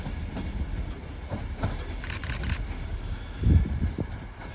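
A train pulling out of Carlisle station for London Euston rumbles steadily nearby, with clicking wheel joints, a brief high squeal and a heavier clunk near the end.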